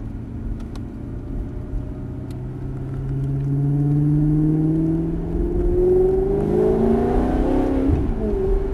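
A Maserati GranTurismo S engine revs up steadily, its pitch climbing through the gears with a rising whine and a deeper surge near the end, heard from inside.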